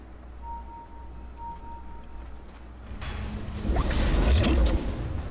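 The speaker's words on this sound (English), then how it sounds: "Vacuum being used to pull him in." The Vacuum ability in Dota 2 pulls an enemy hero inward during a competitive match, heard as a sudden loud whooshing, crashing surge that swells over the game's steady background noise and fades after a couple of seconds.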